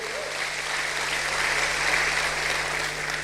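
An audience at a church sermon applauds steadily, a dense wash of clapping hands that holds even throughout with no voices standing out.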